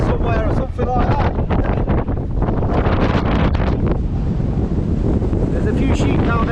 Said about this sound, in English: Wow, it's windy.